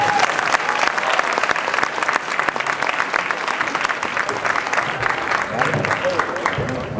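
A school audience applauds the principal and students of Boys and Girls High School: dense, sustained clapping from a sizable crowd, steady and loud with a murmur of voices mixed in.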